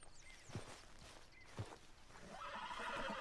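A horse whinnies twice in Red Dead Redemption II, each neigh a short loud burst, with soft hoof clip-clop and ambient game sound building underneath toward the end.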